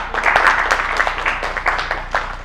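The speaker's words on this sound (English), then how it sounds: "Tupige makofi." Audience applause at a live press club event on women cultivating opportunity, a dense steady patter of clapping hands filling the room and holding loud throughout, with no voices over it.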